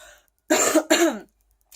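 Two short, harsh bursts of coughing and throat clearing, close and fairly loud, separated by a brief pause, with silence around them.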